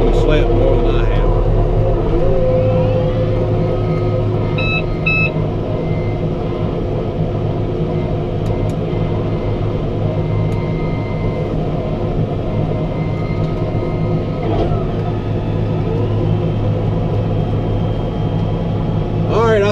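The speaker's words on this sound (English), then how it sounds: "I think y'all get the idea about the snow blower blowing snow" Snow blower running through deep snow during a heavy snowstorm, a steady droning engine hum with a constant low rumble throughout, unbroken and fairly close.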